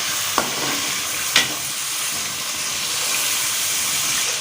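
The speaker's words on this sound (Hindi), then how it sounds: "1 से 2 मिनट मज़ीद इसको जो है ना फ्राई कर लेते हैं मसालों को, अदरक लहसुन और टमाटर और प्याज को।" Spices fry in a pan with ginger, garlic, tomato and onion for dhaba-style daal mash, a steady soft sizzle and hiss with two brief sharp stirring clinks early on.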